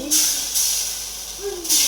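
Chita pitha frying in a pan makes a loud, steady steaming hiss that surges in a few bursts, heard close, with a faint voice underneath.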